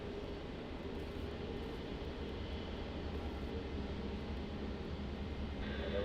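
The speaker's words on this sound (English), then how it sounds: "Very cool visual there with the Japan just landing and that Emirates taxiing down to the terminal" An Emirates airliner taxis toward the terminal at Melbourne Airport, a faint, steady low engine drone heard from a distance without talk.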